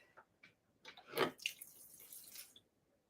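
Water pours into a sourdough mixing bowl resting on a kitchen scale, a short close splash and trickle building to a brief gush and then tapering, quiet overall with faint drips before it.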